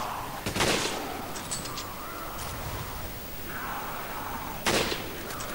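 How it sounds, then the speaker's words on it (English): Machine gun fire in the Resident Evil 5 video game, a few short sharp bursts spaced seconds apart, loud and close over a constant game ambience. "I'm using a machine gun because I can"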